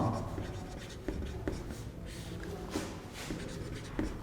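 Marker or chalk writing on a classroom board during a Hindi chemistry lesson, with soft scratchy strokes and several sharp taps across a few seconds, fairly quiet.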